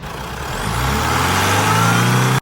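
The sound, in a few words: Honda City car engine starting and idling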